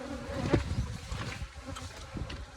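Honey bees mill around a Flow Hive with brood box, queen excluder and super, a dense steady buzz of many insects near and far with individual bees droning past close up.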